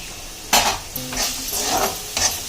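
Potato with garam masala and salt for veg cutlets sizzles in a pan while being stirred, loud scraping strokes of a utensil against the pan breaking over a frying hiss.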